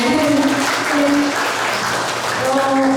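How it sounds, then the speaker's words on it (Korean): An audience applauds at a book launch concert in Osan, a steady, dense clapping from a room full of people that carries on throughout, with a voice faintly audible beneath. "큰 박수 보내주세요"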